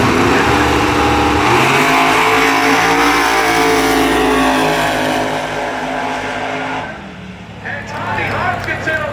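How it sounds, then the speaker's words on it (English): A turbocharged drag racing car roars down the strip at Bradenton Motorsports Park, its loud engine howling continuously close by before easing off near the end, with a commentator talking over it. "On the left-hand side, Tommy looking to continue on with the turbo car."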